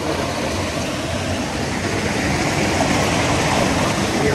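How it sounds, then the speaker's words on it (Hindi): Water rushing steadily past a temple in Arlong Kundu eco tourism park, Karbi Anglong, a continuous broadband flow heard close and fairly loud with no talking. "आगे ये देखो पानी इस तरह से बह के आता है"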